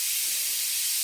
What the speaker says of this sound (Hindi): अभी सीटी मारेगा कुकर।